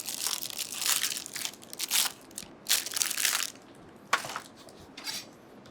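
A knife cuts a round of Camembert cheese in half on a board, with a series of soft crunching, pressing strokes in uneven bursts and brief pauses between them, close and alone.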